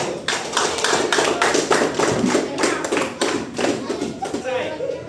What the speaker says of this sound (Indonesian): Mari kita tepuk tangan untuk diri kita semua.